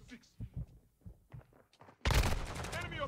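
Modern Warfare 2 gameplay: scattered muffled shots and thumps early, then a sudden loud burst of dense gunfire and crackling that continues to the end, with a voice talking briefly.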